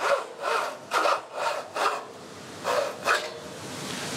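A hand saw cuts through wood at a 30 degree angle, giving about seven rhythmic rasping strokes, close and fairly loud, with a short pause before the final strokes and no talk.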